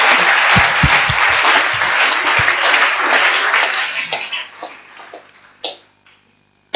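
A church congregation claps loudly and continuously during a worship service, the dense applause thinning into scattered claps near the end before a final sharp clap.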